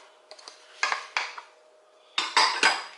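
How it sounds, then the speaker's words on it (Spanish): A spoon scrapes and knocks inside a pot of Cuban chicken and rice as it is stirred, giving several sharp metallic clanks in two bursts with quiet gaps between. "Vamos a mover todo para que se mezcle por todas partes."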